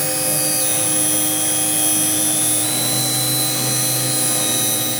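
A CNC router spindle spins steadily at about 18,000 RPM with a 6mm bit, giving a loud, constant high-pitched whine with a slight shift in pitch partway through.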